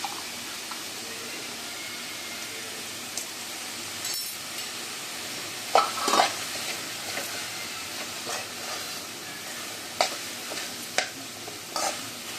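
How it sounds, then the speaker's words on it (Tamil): Beans and vegetables sautéing in a pan for a cornflour snack give a soft, steady sizzle with occasional scrapes and stirring clatters, fairly quiet and with no talking. "நல்லா ஆவி வர வரைக்கும் நல்லா வதங்கட்டும்."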